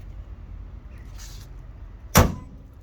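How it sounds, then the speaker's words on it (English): The hood of a Honda Civic Type R drops shut with a single sharp, loud thud near the end, after a quiet stretch with faint rustling. "I can like close the hood for you."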